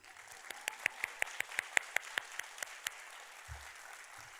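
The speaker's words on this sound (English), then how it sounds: "And if you want to applaud for them, you can." Sparse clapping from an audience at a nursing pinning ceremony, a dozen or so distinct claps in a steady rhythm, moderately distant, with a brief low thump near the end.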